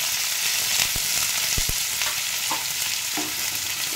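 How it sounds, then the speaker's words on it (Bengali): Chopped onions fry in mustard oil in a wok alongside whole cumin and dried red chillies, giving a steady close sizzle broken by a few sharp clinks and scrapes of stirring. "এগুলোকে আমি ভালো করে আগে ভেজে নেব।"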